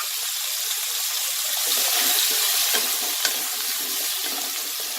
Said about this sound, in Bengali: আলুগুলো ভাজার সময়ও আমি অল্প একটু নুন আর অল্প হলুদ দেব।